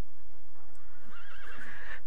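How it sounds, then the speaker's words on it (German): A horse in the video game The Sims 3 lets out a clear, rising whinny over quiet background, with faint hoof-like clops nearby. "Ja, irgendwo muss doch hier ein Pferd sein. Ich habe das doch wie gehört."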